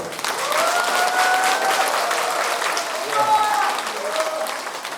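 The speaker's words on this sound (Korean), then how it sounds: "박수 한번 주세요." Audience at a Korean song festival applauding a introduced regional chapter head, a continuous wash of clapping with faint tonal sounds and a voice speaking briefly over it.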